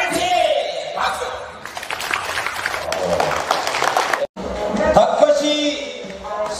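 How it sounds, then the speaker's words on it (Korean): A crowd at a company event on Jeju Island claps and cheers loudly, with shouts and chanting voices rising over steady applause and a brief break near the middle before the noise swells again. "박수!"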